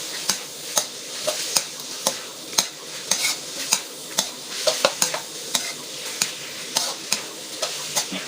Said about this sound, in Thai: ผัดเครื่องในก่อนอันดับแรก